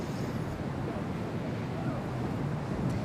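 Ocean waves wash steadily at the cliff diving site in Polignano a Mare, Italy, a continuous broad roar of surf mixed with wind noise on the microphone.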